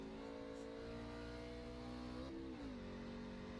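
A loud race truck engine drones steadily, then its pitch dips and climbs again around a gear change, with no talking.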